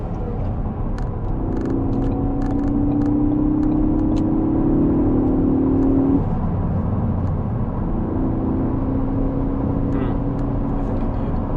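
A 2016 Ford Focus ST accelerates hard with traction control off, its engine a steady loud drone heard from inside the cabin, rising in pitch through a gear, easing briefly, then pulling again.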